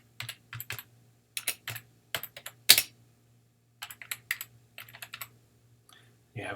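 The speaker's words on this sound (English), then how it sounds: "you can type it in." Quick clusters of keystrokes clatter on a computer keyboard up close, in irregular bursts with short pauses, over a low steady hum.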